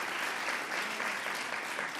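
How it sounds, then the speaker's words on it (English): A crowd claps in steady, dense applause, a brief burst of many hands clapping together at even loudness. "let's give a round of applause"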